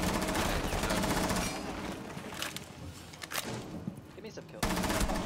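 Automatic gunfire in the tactical shooter Rainbow Six Siege, dense sustained bursts at the start easing into scattered shots and another loud burst at the end, with players talking over it.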